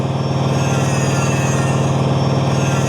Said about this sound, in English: Oh yeah, get the grinder going